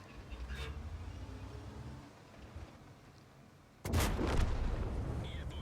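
Skoda T40 tank gun firing in a video game, one sudden loud boom partway through that leaves a rumbling tail, after quieter in-game engine and battle noise.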